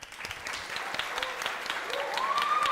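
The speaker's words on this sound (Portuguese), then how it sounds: "a quem eu peço uma salva de palmas" Audience applause for a teacher at a public gathering, a soft continuous wash of clapping that grows slightly toward the end.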